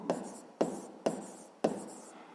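Four short scratching strokes of writing on a board during a physics lesson, each starting with a sharp attack and tailing off, evenly spaced about half a second apart.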